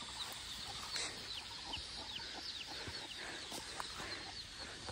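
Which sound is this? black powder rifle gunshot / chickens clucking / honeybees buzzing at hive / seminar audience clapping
chickens clucking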